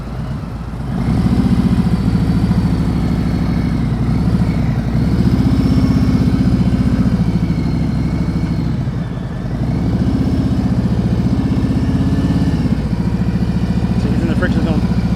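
A motorcycle engine held at a steady low-speed drone during slow-speed riding drills in Florida, loud and continuous with slight dips in throttle, mechanical clatter underneath.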